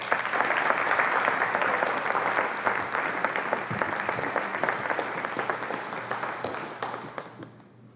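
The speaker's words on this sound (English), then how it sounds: "Please give them a round of applause as they come up to accept their certificates" Audience applause for students coming up to accept certificates at a school honors night, dense steady clapping from a large crowd that holds for about seven seconds before thinning out at the end.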